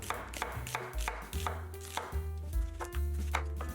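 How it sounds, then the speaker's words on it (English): A knife chops washed romaine lettuce and sweet onion on a cutting board, giving close, quiet, rhythmic thuds and crisp crunches in uneven bursts, with no talking. "let's chop vegetable ingredients such as the romaine lettuce that I already washed it, the sweet onion"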